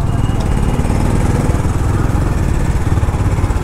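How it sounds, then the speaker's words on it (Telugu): A motorcycle being ridden gives off a steady, close engine drone with a constant low rumble that runs unbroken throughout. "ఆల్మోస్ట్ 2 years తర్వాత బండి నడుపుతున్నాను"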